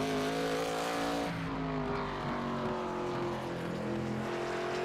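Race cars lap South Boston Speedway at an ARCA night event, engines whining past with rising and falling pitch as several cars sweep by, loud and sustained without talk.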